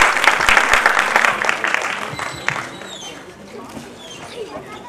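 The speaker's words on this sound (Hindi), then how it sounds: "जोरदार तालियों से स्वागत करें" Applause from an audience at a felicitation and book release event in Bhopal, fairly loud at first and gradually thinning out, with some talk and noise mixed in.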